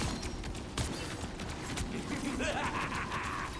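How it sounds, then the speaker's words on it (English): A fireworks ability goes off in Marvel Rivals as a busy clatter of small crackling bursts and mechanical clicks, layered with game effects and a rising whine, with a steady mix of combat noise throughout. "Fireworks."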